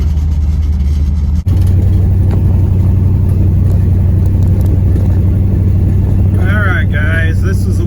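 A car with a newly installed engine runs steadily and shifts through three gears, a loud low engine drone with a brief break where it changes gear, and a voice speaks near the end.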